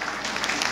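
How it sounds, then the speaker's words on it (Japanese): Crowd applause in a hall during a political talk event in Sakai, Osaka: a brief, dense wash of clapping from a sizable audience, steady and moderately loud, with no pause in it. "えらい拍手やな。"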